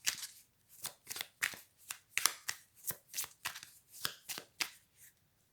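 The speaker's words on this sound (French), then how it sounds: "je viens de m'arrêter encore de battre les cartes" A deck of cards is shuffled close to the microphone in a quick series of crisp riffling bursts, about a dozen in steady rhythm, with no talk.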